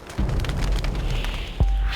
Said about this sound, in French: Un des tunnels du système d'assainissement de la ville explose.